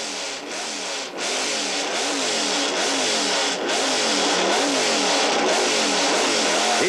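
A Can-Am race car accelerates out of a pit stop at Mosport Park in 1984, its engine roaring loud and steady with rising revs and gear changes, close and continuous with no talking.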